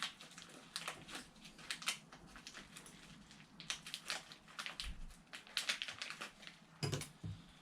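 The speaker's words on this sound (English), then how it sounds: "I'm just going to get my scissors, cut open these hops." Quiet, irregular snipping and crinkling as scissors cut open a plastic packet of hops for home brewing, a rapid series of small cuts and rustles close at hand.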